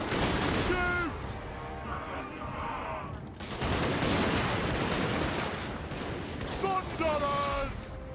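Dwarf Thunderers firing their guns in a battle game, dense crackling volleys and booming shots over a steady battle roar, with voices talking and shouting over the fighting.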